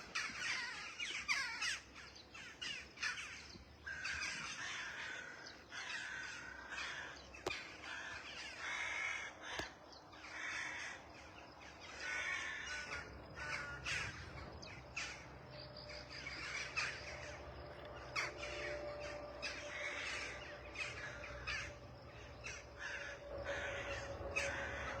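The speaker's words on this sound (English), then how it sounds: "There's some type of crow convention going on." A large gathering of crows caws loudly and repeatedly outdoors, many overlapping calls in an irregular stream with no talk.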